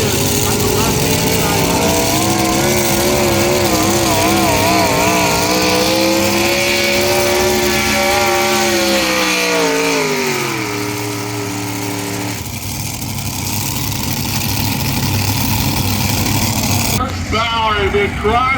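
Unlimited tractor pulling machine powered by five supercharged Hemi engines on a CJ Herd chassis, roaring loud and steady across a sled track, pitch rising and then dropping sharply near the end, with commentator talk over it.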